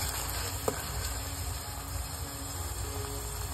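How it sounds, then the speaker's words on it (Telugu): Sliced onions frying in a pan for bendakaya pulusu, a steady soft sizzle throughout with a faint clink near the start. "మంచిగా అయితే వేగుతున్నాయి ఉల్లిపాయలు"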